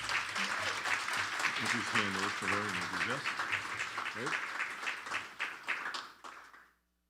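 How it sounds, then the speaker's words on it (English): An audience applauds at a chamber of commerce annual meeting, a sustained burst of clapping with talk over it that thins and fades to silence near the end. "Give her a round of applause, folks."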